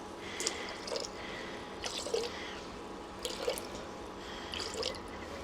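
Room-temperature water for bread roll dough trickles and drips in short bursts, four brief splashy pours separated by quiet gaps, close by with no talking.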